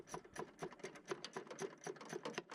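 A ratchet loosens a bolt on a car's air intake box, making a quick, even run of faint clicks close to the microphone.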